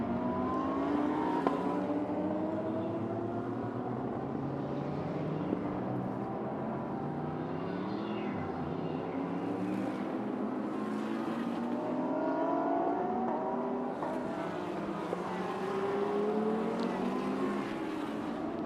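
GT race cars, including a Ferrari, compete at Okayama circuit, their engines droning continuously in overlapping layers, with pitches climbing and dropping through gear changes and distant passes.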